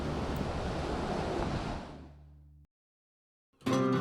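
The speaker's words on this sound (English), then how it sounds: "The water's quite choppy today, and these jetties or breakers are there to break up those waves" Choppy Atlantic Ocean waves break against stone jetties near the Atlantic City boardwalk, a steady loud wash with wind that fades out, then a brief gap before surf noise returns.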